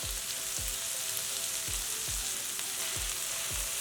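Coriander leaves, curry leaves and mint cooking in a pan for village-style tomato-onion chutney, a soft continuous sizzle with faint periodic stirring thumps, close but quiet, with no voices.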